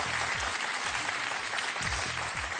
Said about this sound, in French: Alors là, on vous applaudit.